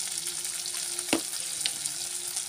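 Chowmein with added salt and turmeric sizzles in a pan while being stirred, a steady close frying hiss with a sharp scrape of the spatula near the middle.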